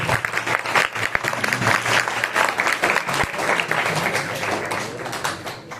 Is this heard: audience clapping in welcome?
yes